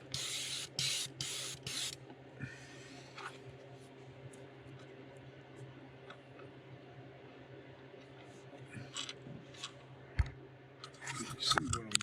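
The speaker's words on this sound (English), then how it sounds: "I'll come back over it and spray." Steady hiss of an airbrush spraying paint onto a fishing lure, with short bursts and a few faint clicks, close up and fairly quiet.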